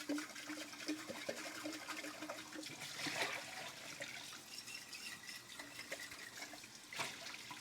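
Tap water runs steadily while a dish is rinsed, a quiet close rush and trickle with faint splashes and knocks against the sink.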